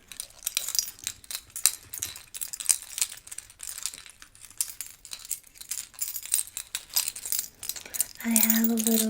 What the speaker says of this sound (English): These are my keys for when I'm on the go.